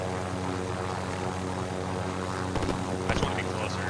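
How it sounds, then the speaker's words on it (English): A helicopter flies in Call of Duty: Warzone, its steady droning rotor hum holding throughout with faint bursts of other game sounds partway through. "He's in a helicopter."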